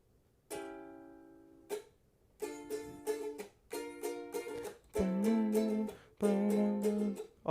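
A guitar, with its high string swapped for a low one, plays a tune. Plucked notes and strummed chords come in uneven, halting phrases with short gaps, close and fairly quiet, with no talking.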